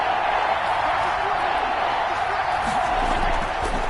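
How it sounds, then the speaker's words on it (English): A crowd in a PS4 American football video game roars steadily, a dense, loud wash of cheering that stays level throughout with no break. "this crowd's going to get even louder"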